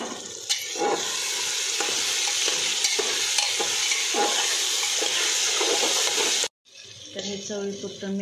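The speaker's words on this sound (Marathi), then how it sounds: "हे आता फ्राय करून घेऊया आपण" Peanuts and peas frying in a pan for Nilanga rice, giving a loud, steady, close hiss of sizzling oil that cuts out abruptly near the end, then resumes more softly with stirring.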